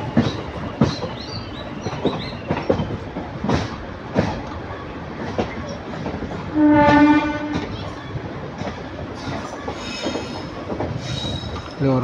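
A train pulls into Karaikal junction, its wheels clattering and squealing on the rails as it slows, with a brief horn-like tone midway and a noisy carriage atmosphere throughout.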